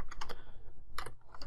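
Fingers type on a computer keyboard while a Python string is entered, producing a quick burst of several clicking keystrokes, then a pause and a few more, close and clear.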